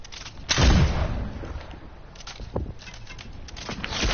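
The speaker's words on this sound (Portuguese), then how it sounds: "acertaste-me o tiro" A single sharp gunshot burst from a Fortnite match, loud and close with a booming low thump, followed by quieter game noise and footsteps-like taps.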